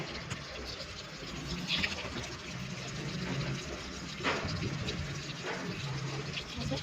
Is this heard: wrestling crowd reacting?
no